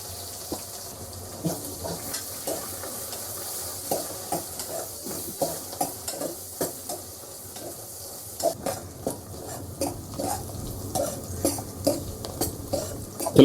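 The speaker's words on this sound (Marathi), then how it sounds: "त्यानंतर यात टाकू आपण थोडा कांदा आणि कांदा मस्त ब्राऊन होईपर्यंत आपल्याला मस्त फ्राय करून घ्यायचं." Onion fries with cardamom in a pan until brown, a constant sizzle under frequent rhythmic clinks and scrapes of a spatula stirring against the metal, growing a little busier toward the end, with no voices.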